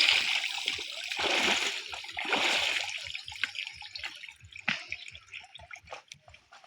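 Freshly harvested sweet potatoes being washed in water, with sloshing and splashing up close that gives way to scattered drips and small splatters.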